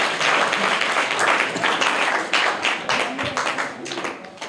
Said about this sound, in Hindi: ये बिल्कुल सही आंसर है, जोरदार तालियां इनके लिए